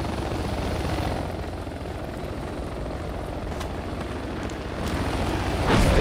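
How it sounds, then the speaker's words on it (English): Heavy helicopter rotor thumping in the video game Project Reality fills the scene, a continuous rhythmic chop that grows slightly louder toward the end, with no talking. "Here, helicopter comes."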